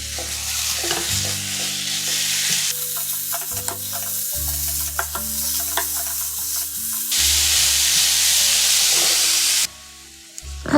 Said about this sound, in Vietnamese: Mình sẽ cho cái phần thịt bằm khi nãy vào trong cái chảo. Mình xào cho thịt săn lên nha các bạn.